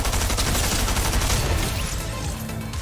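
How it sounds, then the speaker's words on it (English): Rapid gunfire rattles in a Fortnite match, a dense, loud burst of overlapping shots with no talking over it. "Hit him with the quickscope too."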